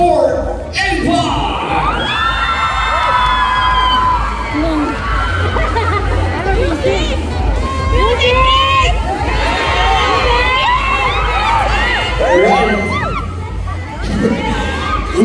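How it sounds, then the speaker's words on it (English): A crowd of fans at a 2023 fan meeting in Manila cheers, screams and whoops loudly and continuously over thumping low music, with excited shouting rising and falling throughout. "ladies and gentlemen, a big round of applause for EngLot."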